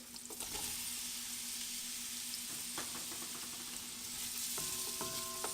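Onions sizzle steadily in a hot pan for a lamb shank tamarind stew, a close, continuous crackle with a few faint clinks of a utensil and no talking.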